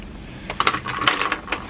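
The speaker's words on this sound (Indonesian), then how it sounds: "aku perlu ngambil dadu. Tapi ini tempatnya penuh banget" Small dice clatter and rattle in short bursts as they are pulled from a crowded, full container, close and fairly loud with no speech.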